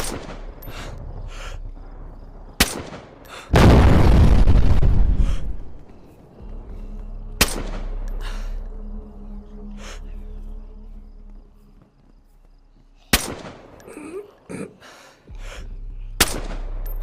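Scattered gunshots in the survival video game DayZ, sharp single cracks at irregular intervals, some near and loud, others fainter, with a long rushing burst of noise and quieter ambience between shots.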